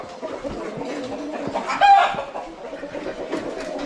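Chickens cluck and murmur in a busy poultry seller's pen, with a brief louder squawk midway over a continuous crowd of fowl.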